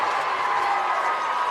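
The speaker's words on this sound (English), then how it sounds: "Listen to the crowd." Crowd at a girls high school basketball game, Homestead at Snider, cheering and roaring after a play, a steady broad wash of voices at even loudness throughout.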